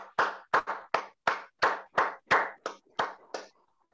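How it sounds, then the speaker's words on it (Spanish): Applause from a Zoom swearing-in ceremony for newly registered lawyers: about a dozen sharp, separate claps in an uneven rhythm over roughly three and a half seconds, fading off at the end, with no voices. "Aplauso para la Fórmula 1."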